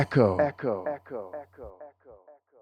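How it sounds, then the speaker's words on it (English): A single voice smeared by echo: each phrase repeats several times, every repeat fainter than the last until it fades out. "Echo is what happens when you hear a sound repeat more than once."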